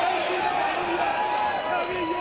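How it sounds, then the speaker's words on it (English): A packed arena crowd roars steadily through an MMA bout at Eternal 71, a dense, continuous wall of cheering with a commentator talking over it the whole time. "Crowd getting right into this one."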